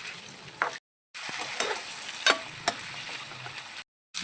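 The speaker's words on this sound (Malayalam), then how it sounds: "നമുക്ക് കുറച്ച് വെളിച്ചെണ്ണ ഒഴിച്ച് കൊടുക്കാം. ഇറച്ചിയൊന്ന് വറുത്തെടുക്കാനാണ്." Beef fries in coconut oil for biryani with a faint, steady sizzle, punctuated by a few sharp clicks and stirring sounds and briefly interrupted by gaps of silence.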